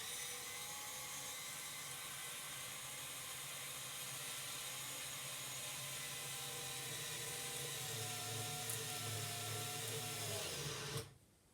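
A Milwaukee or Ryobi 4V cordless screwdriver in drill mode whines continuously at a steady pitch for several seconds, then stops abruptly near the end.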